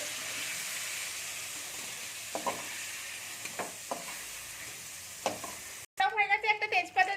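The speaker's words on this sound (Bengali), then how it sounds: "টমেটোটাকে একটু ভালো করে নাড়বো" Green tomatoes stirred in a hot pan keep up a steady close sizzle, broken by scraping strokes of the spoon and a louder crackling burst at the end.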